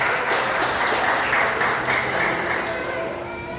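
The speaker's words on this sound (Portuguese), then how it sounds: "Vamos aplaudir o Senhor bem forte," Church congregation applauding during a worship service anniversary celebration, steady dense clapping filling the room loudly and continuously, thinning slightly toward the end.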